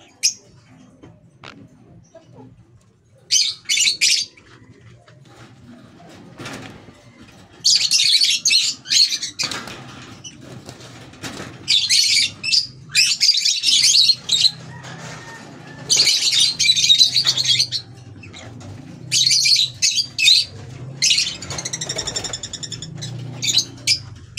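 Small aviary birds, sable yellow opaline finches, chirp and squeak in quick bursts, close and bright, with busy rustling and fluttering between calls and no talk.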